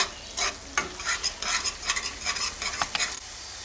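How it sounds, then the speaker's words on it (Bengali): Spices stirred with a spoon into frying brinjal curry, a steady scraping and sizzling with repeated bursts of stirring strokes, close and fairly loud with no talk. "ভালো করে মিশিয়ে নিচ্ছি মশলাগুলোর সাথে"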